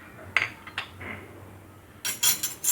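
A small spoon scoops sesame seeds while Moroccan spiced coffee is prepared, giving a few light metallic clinks and soft scrapes, then a brighter cluster of clattering taps near the end, close and clear with no talking.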